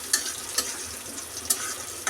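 Onion, garlic and green chili frying in oil in a pan, a steady soft sizzle with a few sharp spatula scrapes against the pan, alone and close.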